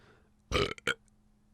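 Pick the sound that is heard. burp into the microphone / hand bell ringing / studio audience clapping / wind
burp into the microphone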